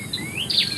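A farmed quail gives a few quick, high chirping calls close by over a soft background hiss, with no voices.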